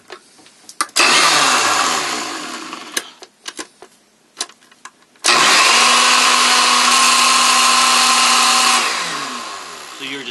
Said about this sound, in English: I'm going to use this blender, just for this demonstration.